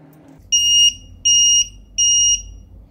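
An XT60 in-line battery low-voltage alarm sounds three loud, shrill electronic beeps, each lasting about a third of a second, at an even pace against a faint low background hum.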